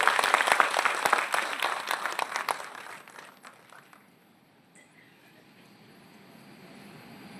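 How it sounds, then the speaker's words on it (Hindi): An audience claps loudly to welcome a new mall, a burst of dense applause that thins out and fades to near silence after about three seconds. "जोरदार ताली से इस मॉल का स्वागत कीजिए।"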